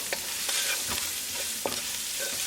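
Cumin powder, garam masala and turmeric sizzle in hot tadka oil in a pan, with steady frying hiss broken by several scraping stirs of a spoon, close and alone.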